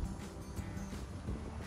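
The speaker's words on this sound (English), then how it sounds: "As you can see, it's just blowing in the wind." Wind gusting steadily through a large wax jambu tree in a home fruit garden in Florida, a continuous broadband rush with soft swells and buffeting, fairly close, with no voices.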